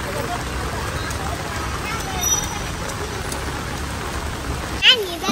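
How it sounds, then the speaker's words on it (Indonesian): Light rain falls steadily outside a school in China, a soft continuous patter near a motorbike parking area, with a brief louder rustle near the end. "Hujan nih. Untung nggak terlalu besar sih."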